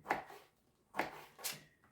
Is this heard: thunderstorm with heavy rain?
no